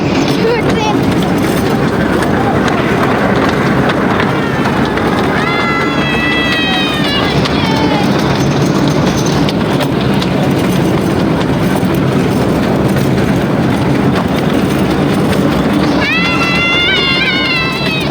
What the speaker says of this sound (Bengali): ট্রেন শুরু হয়ে গেছে।